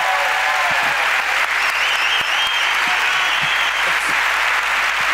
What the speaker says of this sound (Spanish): ¡Aplauso para la ruina de Quique,